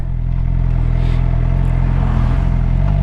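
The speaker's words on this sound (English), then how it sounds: "I'll see if I can get the revs up there a little bit" A motorcycle engine idles loudly and close, then rises steadily in pitch as the revs climb during a solo ride in the Cambrian Mountains of Wales, a strong harmonic drone with no talk.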